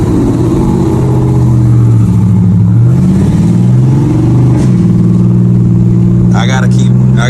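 A cammed, tuned Dodge SRT engine downshifting in sport mode, its loud lumpy exhaust rising and falling through quick gear changes, with someone talking over it throughout.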